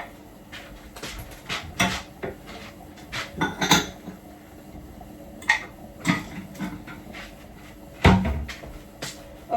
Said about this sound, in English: I'm going to do all the washing up and then that's that done.